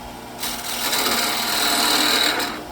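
A spindle gouge cleans up the bottom of a wooden bowl on a lathe, giving one continuous scraping, hissing cut of about two seconds at close range.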